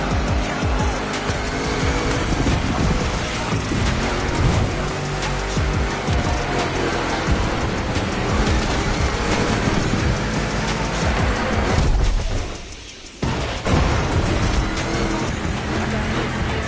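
Race car engines roar continuously in The Crew Motofest racing game during a two-lap Mustang GT race, loud and close, with tires squealing and skidding, then a brief drop near the end before the engine noise returns.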